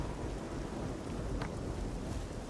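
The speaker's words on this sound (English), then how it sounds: "It's raining and the weather is shit." Steady rain pours with a low rumble of thunder in the video game Oblivion, a dense, continuous wash of storm noise with no talking.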